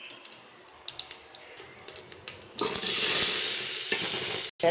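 Mustard seeds crackle in hot oil for a mutton kuzhambu tempering: scattered sharp pops at first, then a sudden loud burst of dense sizzling and spluttering that carries on close up.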